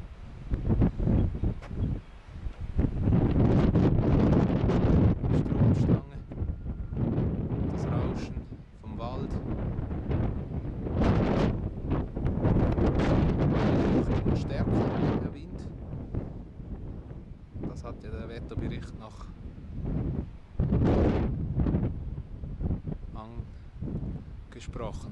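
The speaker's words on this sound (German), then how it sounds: "Wir hören auch den Wind in der Stange." Strong gusty wind from a storm front roars and buffets against a pole in surges, loud and close, with a person talking over it at times.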